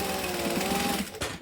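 A sewing machine stitches the vinyl base of a crossbody bag with a fast, close, rhythmic whirring hum that stops abruptly near the end.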